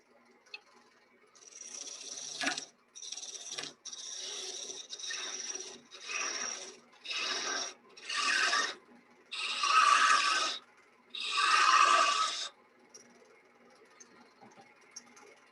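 Roughing gouge cutting wood on a lathe, a series of about nine steady rasping passes, each a second or so long with short pauses between, close and fairly loud with no speech.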